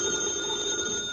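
A telephone rings as a sound effect in a 1952 Fibber McGee & Molly radio show, a steady bright electric bell tone held briefly and alone.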